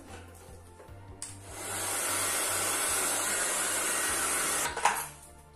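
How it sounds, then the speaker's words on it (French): A hair dryer switches on and blows with a loud, steady whoosh for about three seconds, drying paint, then cuts off, with light handling noises before and after. "Un peu de sèche-cheveux."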